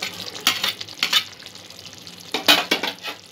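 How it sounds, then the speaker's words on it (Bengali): Capsicum stirred into boiled chicken in a pan, with a few soft scraping stir strokes and light sizzle over a quiet background, no talking. "ক্যাপসিকাম দিয়ে আরও 2-1 মিনিট একটু রান্না করে নেব।"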